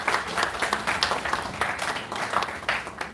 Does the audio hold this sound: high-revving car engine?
no